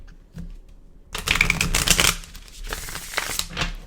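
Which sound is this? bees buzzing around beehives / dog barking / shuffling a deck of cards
shuffling a deck of cards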